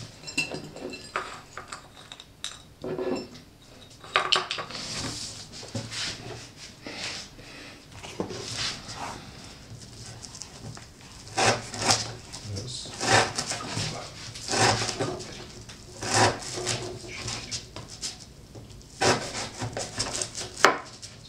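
A knife of N690 steel slicing through rope in a cutting test: repeated scraping, fibrous cuts in irregular bursts, fairly close, with occasional wooden knocks and clinks.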